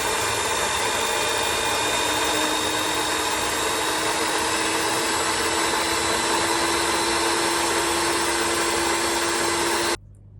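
An electric hand mixer beats vanilla and sugar for a plum and kiwi cake, a steady loud motor whine running unbroken for about ten seconds before cutting off abruptly at the end.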